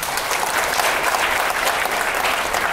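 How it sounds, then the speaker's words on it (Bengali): Sustained applause from a large audience at an award ceremony for a children's talent competition, dense and steady throughout without pause. "তাদের জন্য একটা হাত তালি"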